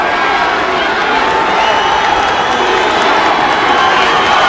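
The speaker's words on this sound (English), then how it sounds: "This crowd is alive here at Ford Field." Football crowd at Ford Field roaring steadily through a Division 2 high school final, a dense, loud wall of cheering with no pauses.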